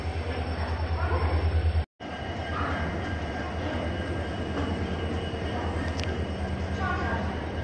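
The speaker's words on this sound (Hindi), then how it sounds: "हमारी वाली ट्रेन वो खड़ी हुई है" A train stands at a platform in a very large railway station before leaving for Belgaum, with a loud rumble, clattering wheels and squeals. The sound cuts out briefly, then the train noise goes on steadily.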